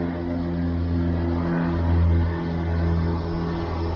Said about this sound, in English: Airplane's going over right beside the airport.